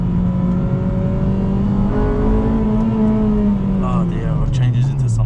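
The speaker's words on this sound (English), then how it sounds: "I really wanted to get into VTEC again." A Honda Civic Type R FD2 engine revs up in a steady, climbing, loud drone heard from inside the car on a Japanese road, its pitch rising into VTEC before easing off at the end.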